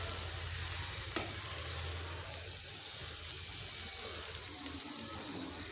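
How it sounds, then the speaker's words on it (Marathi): Puran poli flatbreads sizzle steadily in oil in a deep kadhai wok, a soft continuous frying hiss with a brief clink near the start and a low hum underneath, heard without talk. "अशा पद्धतीमध्ये मी पुरणाच्या पोळ्या करून घेत आहे।"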